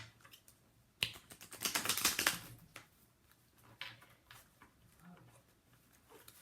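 Tarot cards being shuffled by hand, a dense crackling burst of riffling and slapping cards lasting about a second and a half, followed by a few softer, scattered card taps in a quiet room.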